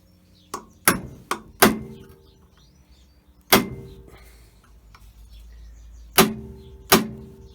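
Hammer blows drive a pin out of a part clamped in a vise: about seven sharp metallic strikes, close and fairly loud, arriving in irregular bursts with short ringing tails and quiet gaps between them.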